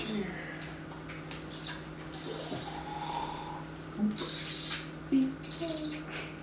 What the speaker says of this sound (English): Baby birds are the best.